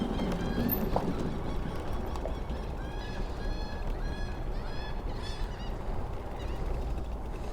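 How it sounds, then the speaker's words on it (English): Seagulls along the Wilmington, North Carolina river walk give repeated harsh, honking calls in short clusters over a constant outdoor background rumble, moderately distant. "The seagulls are going crazy."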